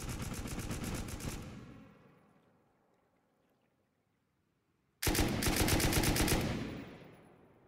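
Automatic gunfire in the survival video game Rust: a loud, close burst of rapid shots that trails into a fading echo, then a second burst after a short silence, with no talk.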